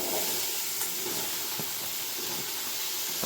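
Capsicum dropped into a hot pan with mint leaves already cooking, giving a steady broad sizzle and hiss that holds evenly throughout, close and moderately loud, with no talking.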